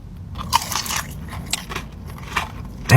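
Bites into crunchy Nashville hot chicken crispers, with a few sharp crunches spread across the clip and a louder, close crunch at the end.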